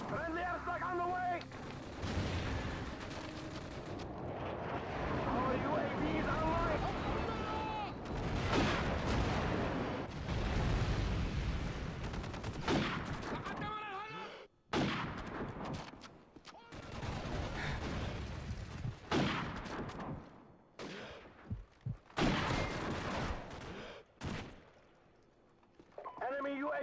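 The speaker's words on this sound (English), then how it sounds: "Friendly airstrike on the way." Explosions from a friendly airstrike in Call of Duty 4, a string of loud booming blasts and gunfire rumbling over several seconds, then sparser bursts with gaps of quiet between them.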